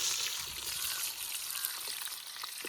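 Onions sizzle and crackle in hot cold-pressed groundnut oil for a village-style mutton lung gravy. The frying is close and steady, with a faint stirring or scraping underneath and no voices.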